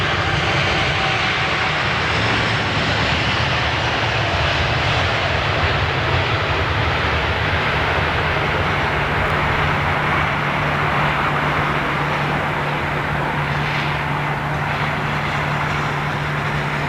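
A Qatar Airways Boeing 777 gives a sustained, loud jet-engine roar with a steady drone, heard at a distance outdoors without fading.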